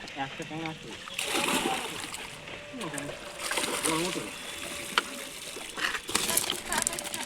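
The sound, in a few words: water splashing as a fishing net is hauled out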